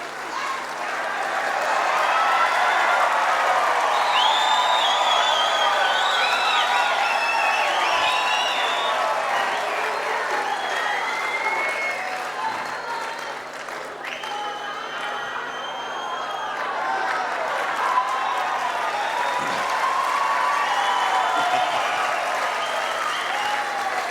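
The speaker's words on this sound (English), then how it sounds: "Give them a round of applause, please." Sustained applause with scattered cheers and whistles fills a large hall as a crowd thanks the volunteers and committee at the Golden Shears shearing championship presentations, loud and steady throughout.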